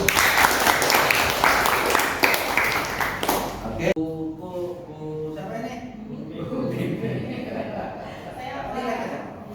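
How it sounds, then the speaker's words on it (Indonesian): Applause at a school presentation for SMKS Raudhatun Nasihin fills the opening four seconds as a dense, steady clapping wash, then cuts off and gives way to people talking. "berikan tepuk tangan Bapak Ibu"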